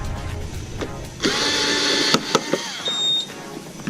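A power screwdriver whirs in a short, loud burst as it backs a screw out of the handlebar cover on a Honda Click 150i scooter, stopping and restarting briefly amid a few sharp clicks and taps.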